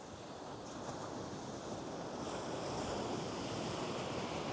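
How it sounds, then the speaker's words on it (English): Ocean waves surge steadily against the shore on a stingray fishing outing, a broad continuous wash of surf with wind noise on the microphone, loud and close with no talking. "we got water pulling out right now, so let's see. Got this wave coming up."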